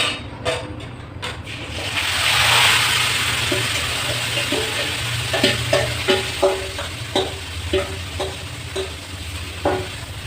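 Mutton pieces go into a hot pan and set off a loud burst of sizzling frying, then a string of wooden stirring knocks and scrapes as the spluttering settles to a steady fry.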